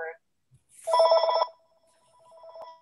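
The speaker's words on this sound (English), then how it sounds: "Somebody's phone ringing." Telephone ringing during an online group reading of Moby Dick, a short electronic ring tone heard at moderate level after a brief voice, then a fainter sustained tone trailing off.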